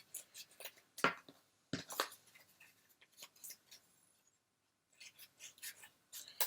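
Scissors snip through egg-box cardboard, shaping big fangs for a crocodile puppet, a few crisp close cuts separated by brief pauses and soft rustling.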